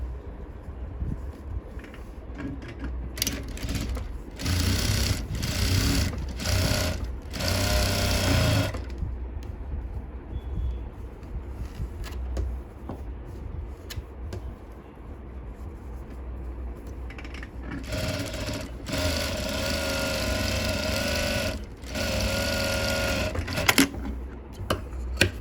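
A sewing machine stitches a blouse in bursts, running in several short stretches with quiet pauses between them, close and moderately loud.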